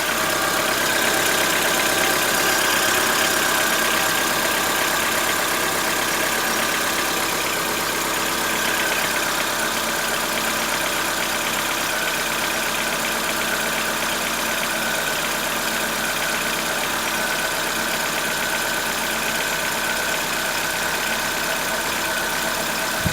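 A Chevrolet Onix 1.4 engine idling with an internal noise from inside the motor, a steady dense mechanical hum with faint knocking texture, close and constant with no speech.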